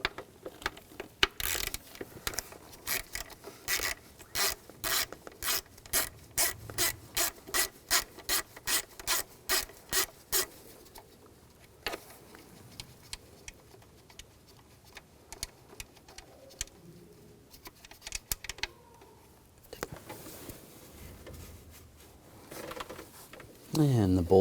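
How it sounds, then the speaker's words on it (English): Ratchet with a T40 socket backing out bolts on the intake manifold of a 2000-2006 BMW X5 3.0L inline-six, a fast run of sharp clicks followed by scattered metallic handling noises, with some talk. "we're going to take these two bolts out. We're going to use a T40 socket."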